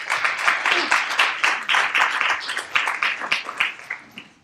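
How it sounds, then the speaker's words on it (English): Clapping from a debate audience in a room, close and fairly loud, with individual claps clearly separate, keeping a lively rhythm before thinning out toward the end. "Please give him another round of applause"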